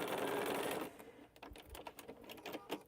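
A sewing machine stitches the other side of an extra quilt piece: a loud, steady run for about a second, then it stops, leaving quieter scattered clicks and handling noises.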